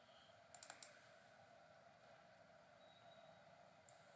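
A computer mouse clicks in ArcGIS in a quiet room, with a quick cluster of three or four faint clicks early on and one more single click near the end.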